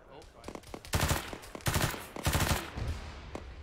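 Rapid bursts of rifle and machine-gun fire in an ArmA 3 combat operation in a Western Sahara setting, several loud close volleys in quick succession with brief gaps between them.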